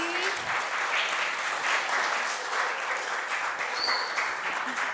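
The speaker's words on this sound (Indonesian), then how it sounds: "tepuk tangannya dong sekali lagi" Steady audience applause fills a hall at a Gen Z event, a dense, even wash of clapping from many hands that holds without pause, with faint traces of voices underneath.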